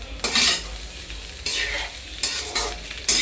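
Egg fried rice with spices being stirred in a pan: repeated scraping strokes, about four distinct sweeps over a constant frying sizzle, close and fairly quiet, without talk.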